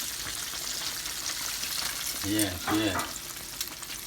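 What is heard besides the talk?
chicken frying in oil until crispy and brown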